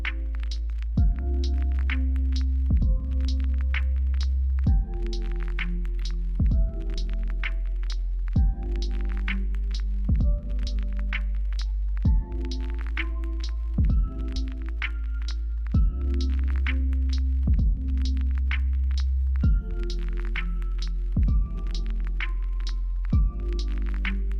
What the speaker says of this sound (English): I really like the whatever vinyl noise in the background.